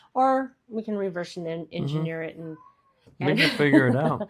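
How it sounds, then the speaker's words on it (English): A pet kitty meows indoors, its short rising-and-falling cry blending into a person's nearby speech near the end. "I have a little kitty who decided to join us today."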